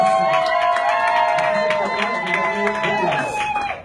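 Wedding guests applaud and cheer at a ceremony, with crowd noise and raised voices over sustained music tones, continuous and fairly loud throughout.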